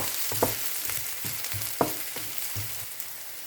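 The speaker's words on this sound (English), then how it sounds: "Wait until warm, then saute the garlic, onion, and spring onion at same time. Keep on stirring until the aroma comes out." Garlic, onion and spring onion sautéing in oil in a pan, a quiet sizzle punctuated by several short scraping stir strokes over a few seconds.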